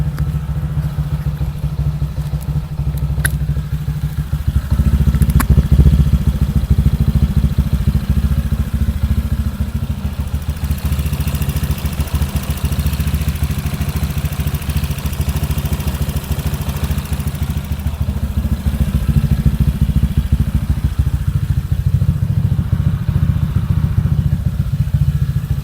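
A tuned Honda Vario 150 motorcycle engine, ECU remapped, idles steadily up close for a long stretch: a loud, even, low chugging rumble with slight wavering and no talk over it.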